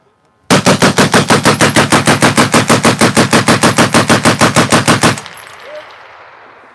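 A Vickers machine gun fires one sustained burst of about thirty rapid, evenly spaced shots, close and very loud, then stops abruptly, leaving a short echoing tail.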